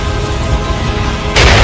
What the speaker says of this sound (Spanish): creo que me he quedado un poco sordo con esa explosión